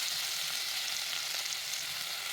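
Radish greens tempered in hot oil in a kadai give a steady, dense sizzle and crackle throughout, close and fairly loud, with no talking.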